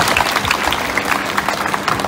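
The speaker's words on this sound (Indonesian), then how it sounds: "Ya tepuk tangan dulu buat HRD." A crowd at a school Independence Day flag ceremony claps for HRD, brief lively applause heard up close for about two seconds.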